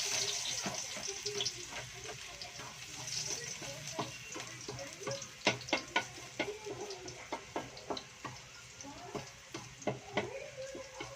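Squid sautéing in a pan for adobong pusit, with a soft sizzle beneath a run of sharp clinks and taps from stirring in the second half, some faint voices and background sounds around it.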